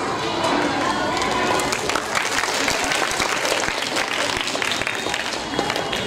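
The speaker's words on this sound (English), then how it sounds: "All applauds to all our beloved parents." A school annual day audience applauds the parents, a thick, continuous wash of clapping from a large crowd that holds steady throughout, with faint voices beneath.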